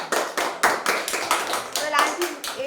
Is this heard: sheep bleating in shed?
no